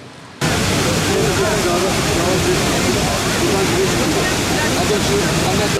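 Ilıca waterfall in Çatak Canyon pours in a dense, steady roar of rushing water close by, starting abruptly after a brief quieter moment and holding constant to the end.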